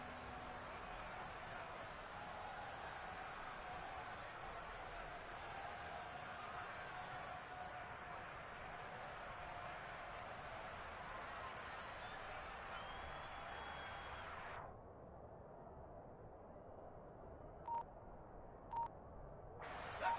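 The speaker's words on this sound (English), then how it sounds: "The crowd getting into it as we come up on a big 3rd down" A football stadium crowd roars and swells ahead of a big third down in a Bengals versus Panthers game, a steady distant wash of noise that drops off near the end with a few brief sharp tones.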